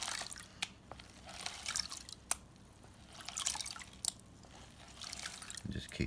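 A gold pan is dipped and swirled in a stream in New Zealand, giving faint watery sloshes, trickles and sharp drips amid steady flowing water close by.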